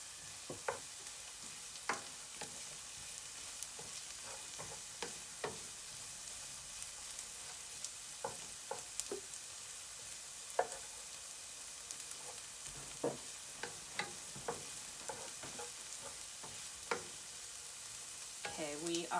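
Mushrooms, shallots and garlic sauté for duxelles with a soft, steady sizzle, while a wooden utensil scrapes and taps the pan in irregular strokes throughout.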